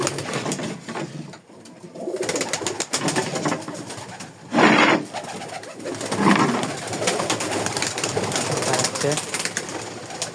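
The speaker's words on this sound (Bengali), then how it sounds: "তো চলেন খোপ খুলি কবুতরে" Pigeons coo repeatedly and close by just after being let out of their coop, their soft throaty calls rising and falling against a busy outdoor background.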